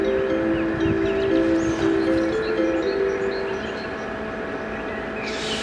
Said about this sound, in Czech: Prosím, ukončete nástup, vlak je připraven k odjezdu.